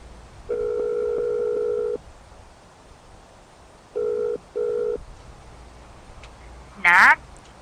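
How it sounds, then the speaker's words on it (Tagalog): A steady telephone tone sounds while a phone call is being placed: one long clear tone, then two short beeps, and a brief warbling chirp at the end. "Akong tawagan, Pe"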